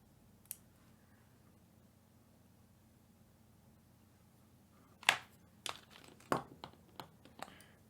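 Plastic model kit parts for an HG MAILeS Reiki being snipped and trimmed, heard as a handful of sharp, faint clicks spaced irregularly over a quiet background hiss.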